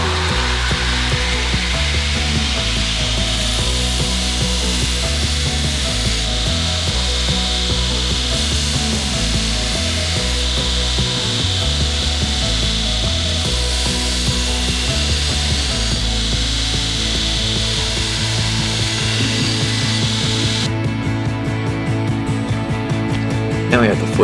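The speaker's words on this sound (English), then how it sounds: "we've got to grind a 45-degree angle on the edge" Steady, continuous grinder whine and rubbing as a 45-degree bevel is ground onto a blade edge, loud and unbroken throughout with slight shifts in pitch as the blade is worked.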